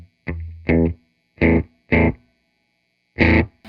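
Five short distorted guitar chords through a 1973 Peavey Classic 212 amplifier, each cut off sharply, with brief silences between and only a faint trace of reverb tail.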